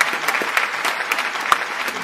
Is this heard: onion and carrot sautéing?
no